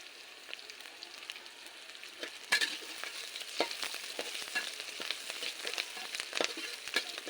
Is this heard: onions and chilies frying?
yes